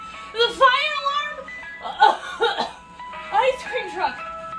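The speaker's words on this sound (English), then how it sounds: "Ice cream truck! Ice cream truck!" A tinny ice cream truck jingle plays as a fire alarm sound, its steady tones running under excited voices that shout over the melody.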